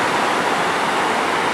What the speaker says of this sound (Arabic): العادة يكون موج قوي